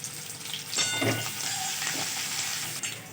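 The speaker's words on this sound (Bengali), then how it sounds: "পেঁয়াজগুলো লাল করে ভেজে নিয়েছি।" Onions and garlic fry in a small amount of oil for chili prawns. A short, steady sizzle carries a brief louder stirring scrape near the start and light crackling over a few seconds.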